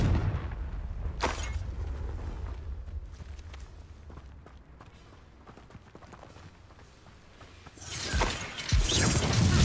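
Confringo blast spell explosions in the Hogwarts Legacy video game, one sharp burst near the start and a louder crashing blast toward the end, with quieter scuffling and footsteps between them.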